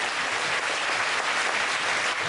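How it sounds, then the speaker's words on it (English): A steady wash of applause from the audience at a Celebrate America event at a high school, honoring the choir and band, sustained and fairly loud throughout with no speech over it. "Give them a big round of applause."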